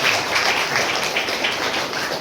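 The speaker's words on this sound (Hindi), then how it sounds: "सर जी का भी तालियों से स्वागत करते" At a government school event, an audience greets a guest with steady, dense applause, a continuous wash of many hands clapping that holds at even loudness throughout.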